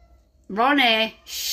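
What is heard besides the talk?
cat meowing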